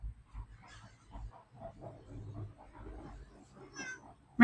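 A cat gives a few short, quiet meows and soft vocal sounds close by in an outdoor playpen, separated by brief pauses.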